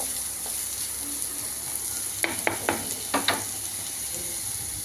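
Ingredients for a pachadi fry in a pan with a steady low sizzle, broken midway by a few sharp utensil clicks and scrapes, with no talking.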